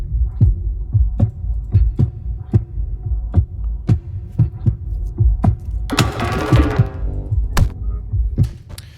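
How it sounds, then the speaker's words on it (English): Drum loop with a steady, pulsing low kick-like thump repeating about every half second, plus a brighter burst of cymbal-like noise around the middle; loud and close, no voices. "I've been working on this drum loop thing."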